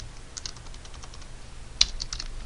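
Light typing on a computer keyboard, a steady patter of soft clicks with one sharper keystroke near the end, heard close and alone over a faint low hum.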